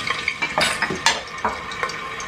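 Cooking oil poured into a hot pan for dhaba-style aloo gobi, giving a run of short sizzling bursts and light clinks of utensils against the pan, close and fairly loud with no talk.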